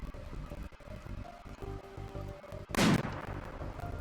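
Gunfire and fire break out during a raid in the RimWorld colony game, ending in one loud burst after a few seconds of low game ambience and clicks.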